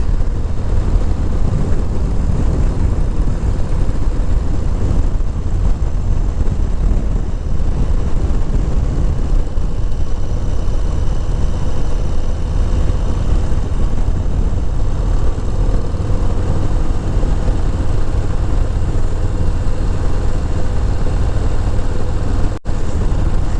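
A Harley-Davidson Low Rider S motorcycle engine runs steadily close by, a dense continuous low rumble at idle that barely changes for the whole stretch, with no talk over it.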